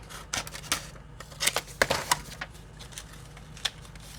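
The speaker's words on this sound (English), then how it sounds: "Let's cut it. Just going to cut it." Scissors cutting paper for a craft project, a few crisp snips in quick clusters, close and fairly quiet, no talking.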